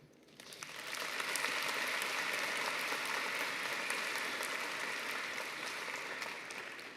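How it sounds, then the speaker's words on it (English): Sustained applause from families and guests at a university Faculty of Arts graduation ceremony, swelling quickly after a brief quiet start, holding steady for several seconds, then thinning slightly toward the end. "the biggest round of applause to our families who have been so supportive over the years"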